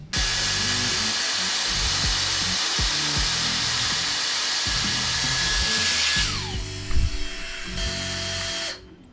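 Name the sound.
Dyson Airstrait hair dryer straightener running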